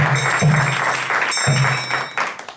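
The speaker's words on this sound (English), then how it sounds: "So please give them a warm round of applause." Audience applause at a temple celebration for Narasimha Caturdasi, a steady wash of clapping from a crowd that runs throughout, fairly loud and close, with no talk over it.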